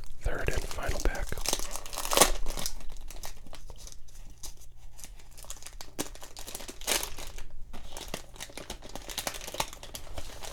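Crinkly cellophane wrapper of a 1990 Topps baseball card pack being torn open and crumpled close up, with bursts of sharp crackling separated by quieter pauses and soft whispered talk in the background.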